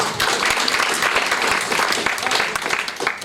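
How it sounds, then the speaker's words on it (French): Audience applause at a Dax public meeting as a speaker walks onto the stage, a continuous loud wash of clapping with occasional sharper claps and faint voices mixed in. "Vous pouvez l'applaudir."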